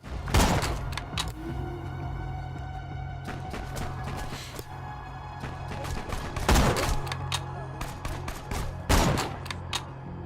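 Sniper rifle shots ring out in Borderlands 2, several sharp loud cracks spaced irregularly over a busy background of game effects and scattered thuds.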